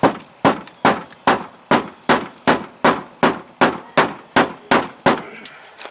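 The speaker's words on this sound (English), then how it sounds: "duct tape around this hammer so I can hit that car" Hammer wrapped in duct tape pounding a dent in a car body, about fourteen sharp, evenly spaced loud blows in a steady rhythm, close up with no talking.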